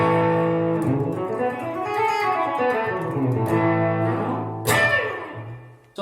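Electric guitar on the bridge pickup through a Bucket Brigade delay set to slapback, with no fuzz: bending, sliding notes played up close with a short echo trailing each one, then a sharp attack near the end.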